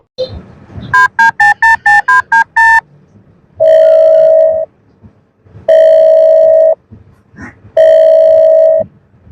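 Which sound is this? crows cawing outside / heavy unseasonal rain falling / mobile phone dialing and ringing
mobile phone dialing and ringing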